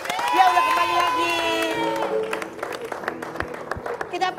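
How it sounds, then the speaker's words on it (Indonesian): Studio audience applause and cheering for Ivan Gunawan on an Indonesian TV variety show, a dense crowd of clapping with a host's voice over it that thins out after about two seconds. "kita kasih tepuk tangan dulu untuk Ivan Gunawan"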